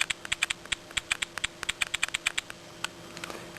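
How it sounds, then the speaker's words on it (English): Quick taps on the touchscreen QWERTY keyboard of a Nintendo DSi in PictoChat, each key press giving a short crisp click sound, in irregular bursts that thin out toward the end, close and clear with no talking. "We have here a QWERTY keyboard that you have to touch type on."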